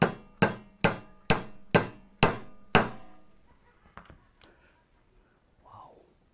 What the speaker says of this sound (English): you can use a dead blow hammer or a rubber mallet to pound that in